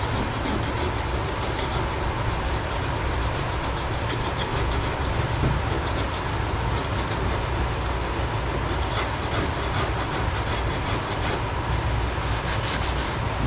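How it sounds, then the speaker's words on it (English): A scraper rasps steadily and loudly across truck paint, working off decal adhesive softened with Goo Gone, in a continuous close scraping with no pauses. "they'll be cringing with the scraper on the side of this paint"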